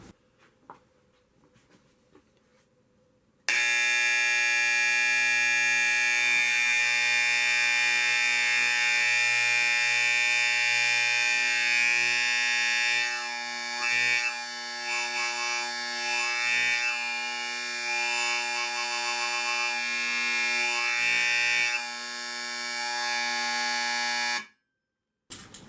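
An electric alarm wired to a switch sounds a loud, steady, harsh buzzing tone for about twenty seconds, starting abruptly after a quiet moment and cutting off sharply, with no talk over it.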